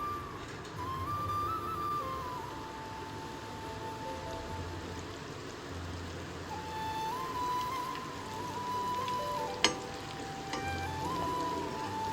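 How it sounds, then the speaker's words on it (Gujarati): Cashew-shaped namak para dough pieces frying over a low flame in hot oil, a soft continuous sizzle and bubbling with a faint tonal hum and one sharp tap partway through. "એમાં થોડા થોડા કરી અને આપણે એડ કરતા જઈશું અને ધીમી આંચ ઉપર સરસ તરાવા દઈશું"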